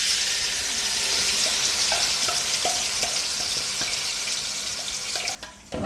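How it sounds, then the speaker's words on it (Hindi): Chicken pieces fry in hot oil in a pot with a loud, steady close-up sizzle and crackle, along with a few light clicks and stirring knocks, ending in a brief dip and rustle. "अब मैंने पॉट में ऑयल डाल दिया है और अब ये मैं चिकन डालने लगी हूँ।"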